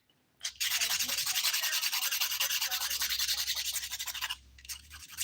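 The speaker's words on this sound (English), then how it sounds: "I am using a 180 grit file in case you're wondering." Fingernails being filed with a 180 grit nail file, a close, steady rasping scrape in quick repeated back-and-forth strokes lasting several seconds, with a brief pause near the end.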